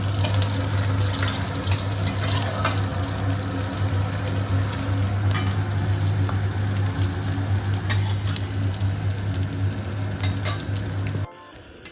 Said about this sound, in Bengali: সর্ষে তেল গরম করে নিয়েছি তার মধ্যে সবার প্রথমে শুকনো লঙ্কা দিয়েছি রসুনটা দিয়েছি আর কাঁচা লঙ্কা